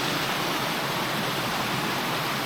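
Waterfall at Middle Black Clough pours in a steady, dense roar with a smaller fall nearby, loud and close, with no voices over it.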